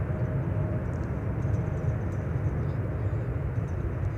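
A Bombardier Global 7500 business jet, American registered, at Amsterdam Schiphol Airport, gives off a steady broadband roar with a low rumble that holds even throughout, heard from a distance with no talk over it.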